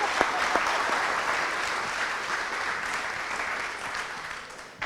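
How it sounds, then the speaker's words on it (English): An audience claps at the close of a talk, a dense, steady round of applause that slowly tapers off. "Let's give them a huge round of applause."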